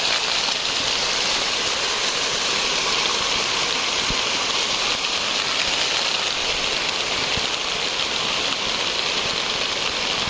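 A waterfall on the road to Kuttipullu in light rain gives a steady, loud, broadband rushing roar that continues unbroken with no voices.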